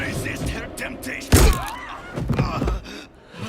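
A heavy, sharp gunshot-like thud hits once in Diablo 4 gameplay, then low rumbles and softer thumps follow, with game voices and ambience around it.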